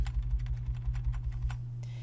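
Arrow keys on a computer keyboard are tapped repeatedly to nudge a shape in a 3D design program. The steady, evenly spaced clicks sound close up over a constant low electrical hum.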